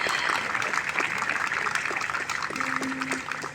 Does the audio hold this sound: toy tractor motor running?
no